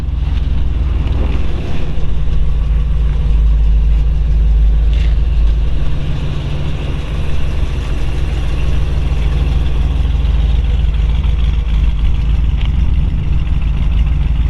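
A 1940 Ford Deluxe Business Coupe with a 350 engine runs with a steady, low rumble throughout, smooth and constant, with a soft whooshing noise over it and no talking.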